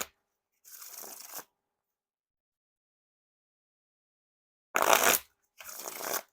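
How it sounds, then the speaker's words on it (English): Two bursts of riffle shuffling a Theory11 Harry Potter playing card deck, a short whirring riffle followed later by a louder pair of crisp, fluttering cascades, with silence between. "And now time for the riffle shuffle or bridge shuffle."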